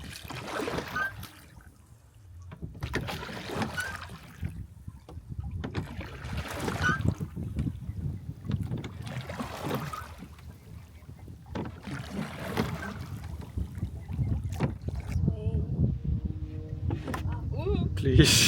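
Oars of a rowing boat strike and pull through the water in steady strokes roughly every two seconds, with splashes and trickling drips between them while people talk nearby.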